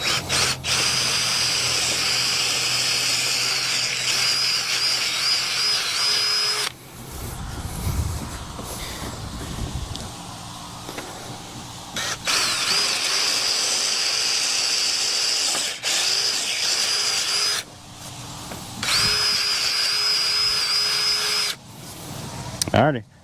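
A power drill bores a series of holes into a wooden chicken tractor frame. Loud whining bursts of several seconds are split by short pauses filled with handling noise and background sound.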